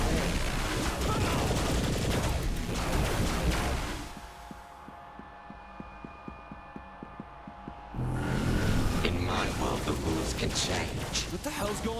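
Dense gunfire in the game Saints Row: The Third, loud sustained bursts mixed with talking, broken by a quieter stretch of rapid regular pops before the heavy firing resumes.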